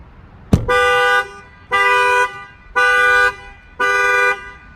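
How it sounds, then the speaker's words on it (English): A 2019 Jeep Grand Cherokee alarm with a shock sensor add-on is set off by a sharp bang on the glass, then sounds four loud, steady horn-like honks in an even on-off rhythm, close by with no talk. "I'm gonna go ahead and bang on the glass and that will fire off the alarm"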